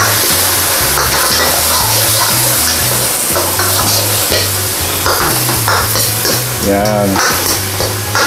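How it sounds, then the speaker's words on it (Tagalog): Mongolian beef with spring onion is stir-fried in a hot pan, sizzling loudly with scraping stirs of a utensil, while someone talks over the cooking. "Pwede na po natin ilagay ang ating spring onion. Yan. And then, stir lang po natin siya ng mga 1 minute."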